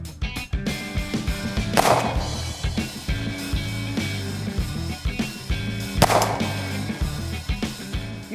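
Two pistol shots from a Smith & Wesson M&P M2.0 optics-ready compact, sharp loud cracks about four seconds apart over a steady low rumble of background noise.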